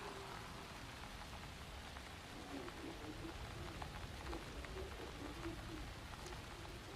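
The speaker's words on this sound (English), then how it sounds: "Gosh, the rain. The rain is so cool with the haptic, because I can feel little pitter." Steady rain from the video game Alan Wake 2, a dense, even patter of drops falling on surfaces that holds at a constant moderate level throughout, with no voices.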